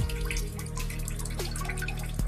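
An animated character peeing into a potty, heard as a steady trickle and drip of liquid over a low continuous hum, with sharper drips near the end and no talking.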